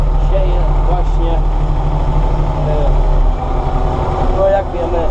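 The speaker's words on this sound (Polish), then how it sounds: "siedzę ze sterami ciągnika marki Landini" A Landini tractor pulling a Meprozet seed drill while sowing a field in October, its engine droning steadily and loudly throughout with a low, even rumble, and a voice talking over it.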